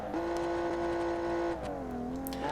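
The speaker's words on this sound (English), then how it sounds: "the transmission selection I have is just not good for the absolute ridiculousness of this engine, because it is struggling to shift gears on time" A high-powered car engine in BeamNG.drive holds a strained, sustained rev, then drops in pitch and climbs again as the automatic transmission struggles to shift gears on time; loud and close, with no talking.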